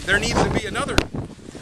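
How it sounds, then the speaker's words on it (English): Wind buffets a microphone outdoors in southwest Florida, producing loud, gusty low rumbling and blustery noise beneath a man's speech throughout the short stretch. "sorry about that, it's windy out here in southwest Florida"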